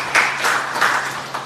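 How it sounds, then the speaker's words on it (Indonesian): A church congregation claps together in a short burst of applause at a Sunday service, with several rhythmic swells. "Kita beri tepuk tangan yang baik ya Tuhan."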